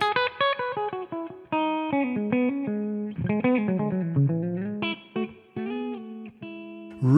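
An electric guitar with a clean tone, played through a Two Stone SS Ultimate amp in the middle pickup position, plays a melodic run of single notes and chords, plucked articulate phrases with some sustain.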